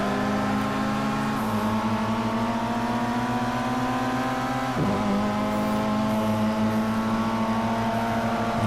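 A race car engine in a racing video game drones steadily at high revs, its pitch climbing slowly through one gear before dropping at a shift and rising again, continuous and unaccompanied by talk.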